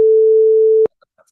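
A steady pure sine tone on the note B, clean and unaliased, holds at a constant pitch for under a second and then cuts off abruptly, leaving near silence with faint traces.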